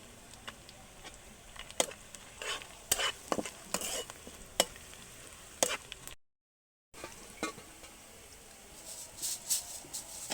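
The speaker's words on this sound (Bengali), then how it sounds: "আমার পেঁয়াজটা একটু ভাজা হয়েছে, পেঁয়াজটা বেশি লাল করব না, এভাবে ভাজবো।" Onions frying in oil with cloves and cardamom, a low soft sizzle broken by frequent sharp spatula clicks and scrapes against the pan, with a brief dropout midway.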